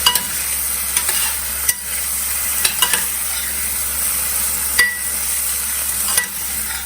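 Paneer sautéing in a pan over a slow flame, a steady broad sizzle with occasional sharp clicks of a spatula stirring and scraping, close and continuous.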